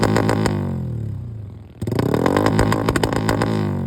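A motorcycle engine revving after ECU tuning, loud rising and falling revs that dip to a brief lull, then climb again into sustained high-rev bursts.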